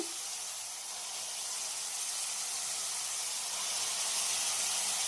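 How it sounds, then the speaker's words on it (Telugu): Chopped tomatoes go into a hot pan for street-style pasta, giving a loud, continuous sizzling hiss that holds steady and slightly swells over five seconds, with no voices. "టమాటాలు కూడా వేసేద్దాంలే"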